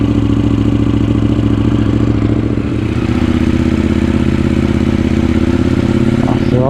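A KTM 790 Duke motorcycle engine runs close and loud with a steady throbbing idle, a brief blip of revs near the end, no voices.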